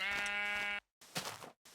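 Sheep bleat in the video game Minecraft, one clear sustained bleat followed by a rougher second bleat and the start of another, close and unaccompanied by talk.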